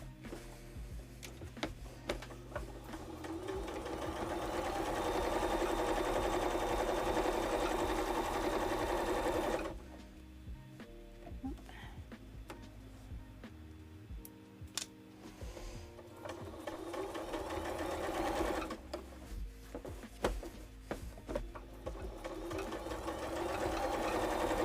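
A sewing machine stitches inside a cozy converted school bus, its rapid mechanical chatter running steadily, pausing for several seconds midway amid soft handling sounds, then starting up again, close and clear without talk.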